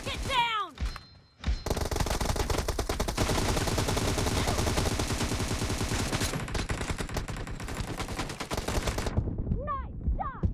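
Sustained automatic gunfire from a PUBG Mobile Domination match, loud and continuous for several seconds with rapid repeated shots, bracketed by brief game voice callouts at the start and end.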